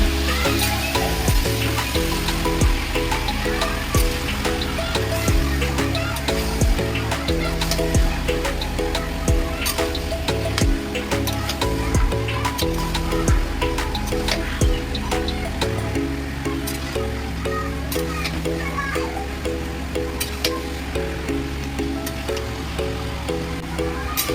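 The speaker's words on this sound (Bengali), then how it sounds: "এখন আমি মাংসটা ঢেলে দেবো দেখুন আর এই পেঁয়াজের সাথেই আমি মাংসটা কষিয়ে নেবো" Mutton being fried with onions for a Holi mutton curry, a steady dense sizzle running continuously at close range, with music playing underneath.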